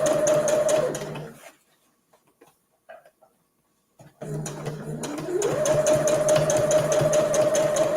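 A sewing machine runs fast and steady while stitching a fabric gift bag, stops for a few seconds of near silence with faint handling, then whirs up again for a backstitch.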